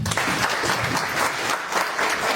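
Audience at a motivational talk breaks into loud, sustained applause, a dense continuous wash of clapping throughout.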